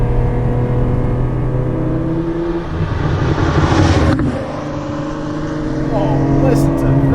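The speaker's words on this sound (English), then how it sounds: "There's an exhaust system, XOS exhaust system in the back, and that's why it sounds a little poppier" A 1991 Ferrari Testarossa engine with an aftermarket XOS exhaust rumbles loudly up close, revving and settling with throaty pops from the exhaust, while people talk over it.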